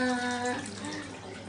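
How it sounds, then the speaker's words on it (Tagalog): Water gushes strongly from a tap in a steady, loud rush, with a whistling tone at the start that fades after about half a second. "Ang lakas ng tubig"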